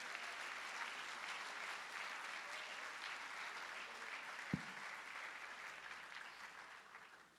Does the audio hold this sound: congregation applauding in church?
yes